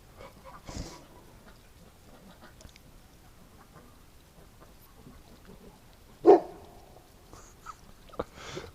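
A dog gives a single sharp bark from a short distance amid quiet outdoor ambience, with a couple of fainter noises before and after.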